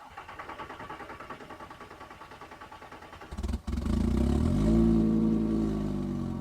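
A VW 2.5L 07K five-cylinder engine cranks with a rapid, even starter chug for several seconds, stumbles, then catches and settles into a loud, close rumbling idle after a short rev.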